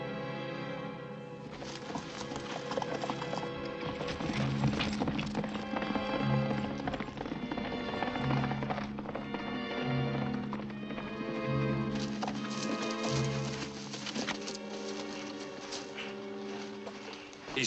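Horses' hooves clip-clop steadily and close by under a continuous dramatic orchestral score, with an occasional whinny, as riders move along in a 1952 Western film scene.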